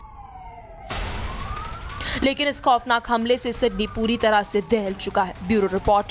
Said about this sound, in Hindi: जबकि पीछे गोलियां और पुलिस सायरन की आवाजें साफ सुनाई दे रही हैं।